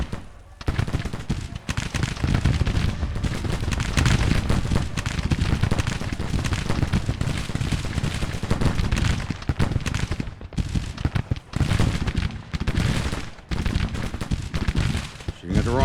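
Rolling musket volleys and artillery booms fill a Grand Tactician: The Civil War battle, dense and nearly continuous for the whole stretch, with a voice talking over it at times.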